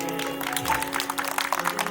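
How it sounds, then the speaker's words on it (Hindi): Audience applause for a bhajan singer at a devotional bhajan evening, a dense steady wash of clapping throughout, fairly loud and close with a faint tonal hum underneath. "जोरदार ताली इनके लिए लगाइए।"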